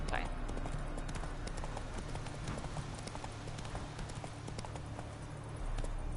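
Hooves of the horse Roach clip-clopping at a steady gait in The Witcher 3, a continuous rhythmic trot layered over game ambience.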